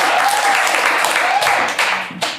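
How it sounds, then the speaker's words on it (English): A comedy stage audience applauds and cheers loudly and steadily, a dense wash of clapping that tapers near the end, with a voice heard briefly over it. "Give us a round of applause"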